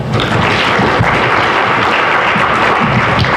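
Loud, dense audience applause at a high-level dialogue conference, continuous clapping from a large room sustained evenly from start to finish, close and full.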